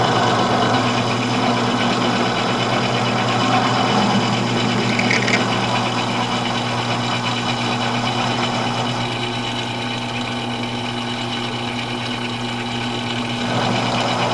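A small metal lathe runs steadily in a home shop, a loud continuous mechanical hum with a constant tone and little variation throughout.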